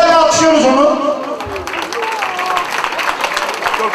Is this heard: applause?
yes